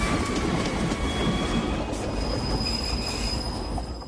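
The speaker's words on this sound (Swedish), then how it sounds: "När tåget kommer hoppar Mikaela självklart undan precis i rätt tid och Jocke blir påkörd" Train passing in the Swedish film Svart Lucia, a steady rolling rumble of wheels on rails with high metallic squeals rising in the second half, heard alone with no talk.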